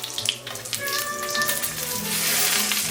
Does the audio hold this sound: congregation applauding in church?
no